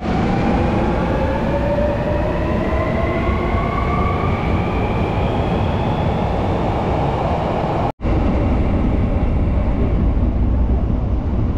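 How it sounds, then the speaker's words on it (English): Underground subway train riding through a tunnel in Osaka, a steady loud rumble with rising and falling whine tones from the motors, a brief dropout near the end, and no voices. "I think it's basically like an underground subway"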